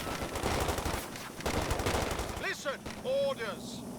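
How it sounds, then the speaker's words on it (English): Battlefield fire in Company of Heroes 2, with officer-called artillery arriving as a dense run of rapid, rattling blasts for about two and a half seconds before easing off under quieter game sounds. "That's the officers' artillery now."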